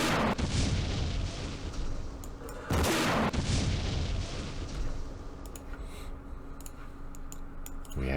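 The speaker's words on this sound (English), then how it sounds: "This is a recoilless rifle." Recoilless rifle and mortar fire in a Middle East wargame, with a couple of heavy booming blasts standing out over a continuous low rumble of distant battle.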